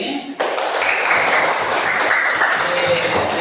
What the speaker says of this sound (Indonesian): Boleh kita tepuk tangan semua untuk pembelajaran hari ini.